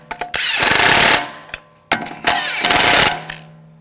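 Impact wrench or power tool snugging wheel lug bolts on an Audi S4, heard as two loud, close bursts of buzzing, rattling hammering about a second each, with brief clicks and pauses between them and no talk.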